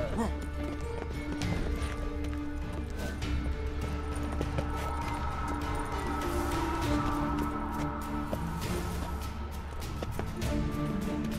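Horse hooves clip-clop rapidly in a running rhythm under a busy mix of shouting voices and clashing noise, steady throughout, in The Witcher 3: Wild Hunt.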